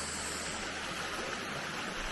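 Laurel Creek flowing along the Appalachian Trail, a steady, dense rushing of water filling the scene evenly from start to finish, with no voices.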